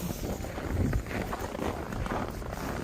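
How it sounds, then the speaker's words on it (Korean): Strong wind buffets the microphone on the snow-covered summit of Deogyusan (Hyangjeokbong) in an eleven-below cold snap, a continuous loud broadband roar with gusty surges and no talk. "계속 바람 부네요."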